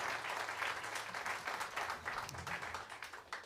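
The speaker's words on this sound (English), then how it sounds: "So give them a big round of applause." Concert audience applauding an orchestra, steady dense clapping from a crowd, fairly close and continuous for a few seconds.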